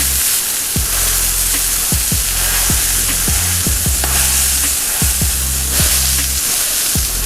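Sausage patties frying on a griddle give a loud, steady sizzle, broken by repeated scraping and spatula knocks against the metal as the meat is flipped.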